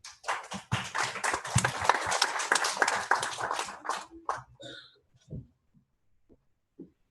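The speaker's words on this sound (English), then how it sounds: "Let's give her a warm round of applause." An audience bursts into applause at an event honoring a speaker: dense, loud clapping for about four seconds, then thinning out into a few scattered, fading claps with quiet gaps.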